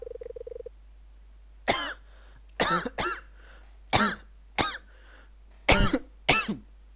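Eight short, raspy coughs from a video game character in irregular bursts, close and fairly loud, with brief silences between them and a faint tone at the start.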